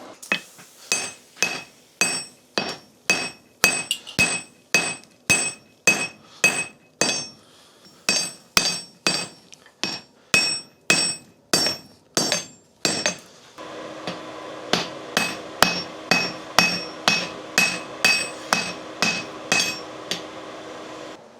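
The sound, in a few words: hammer pounding hot steel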